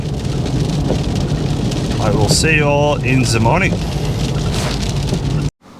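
Steady rain falls at night, a loud, even wash of drops throughout, with someone speaking briefly over it before everything cuts off abruptly at the end.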